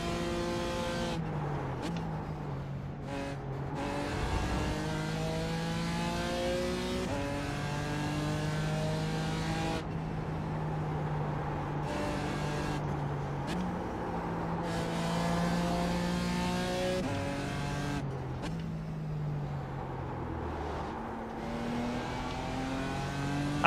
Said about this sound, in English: I am piloting the old BMW GT4 tonight.